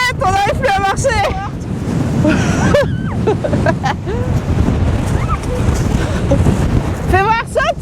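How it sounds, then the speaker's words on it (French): Strong storm wind in Torres del Paine park, Patagonia, near icebergs, roaring and buffeting loudly and continuously while voices call out over it. "C'est la tempête, on n'arrive plus à marcher."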